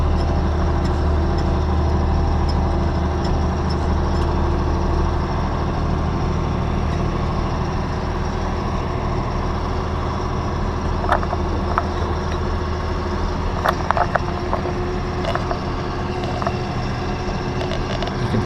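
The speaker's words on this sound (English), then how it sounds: "You can tell the tractor's working a little bit to climb up." A tractor engine labours steadily uphill while dragging heavy packers and harrows on a farm, a continuous low drone heard from the cab, with faint clicks and rattles near the end.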